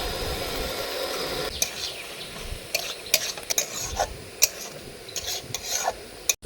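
Chili paste being stirred into a cooking pan: scraping, rubbing strokes with a soft sizzle underneath, a run of close spoon-on-pan scrapes, with no talking.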